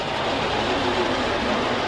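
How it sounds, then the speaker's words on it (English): A small train running inside the Biltmore Estate conservatory, a steady broadband rumble and rattle heard up close without speech. "And here comes the train"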